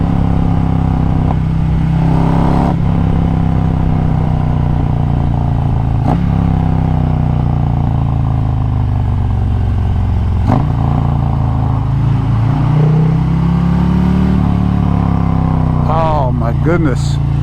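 A 2020 Harley-Davidson Road Glide Special with a 128-inch big bore kit and 4.5-inch mufflers with louvered baffles drones loud and steady while riding, its deep engine rumble continuous throughout as a voice talks over it.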